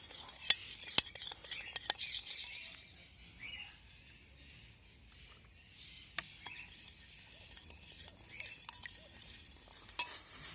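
Shopska salad being tossed with salt and vinegar in a bowl, soft wet stirring and rustling punctuated by sharp clinks of a utensil against the dish, close and fairly quiet.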